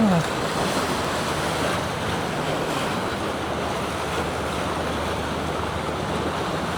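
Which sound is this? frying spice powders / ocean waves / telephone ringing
ocean waves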